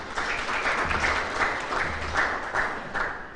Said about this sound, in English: So let's also give her a round of applause.